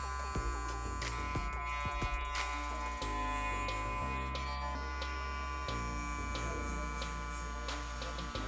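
A steady electric buzz from hair clippers run without a guard while fading a skin fade at a barber chair, continuous and close, with small clicks and shifts in tone as the blade moves.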